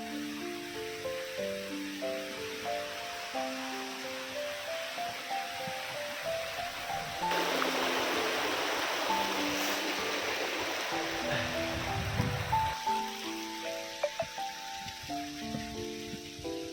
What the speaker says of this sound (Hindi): ये बर्फ़ पिघल रही है और इससे वाटरफॉल बन रहा है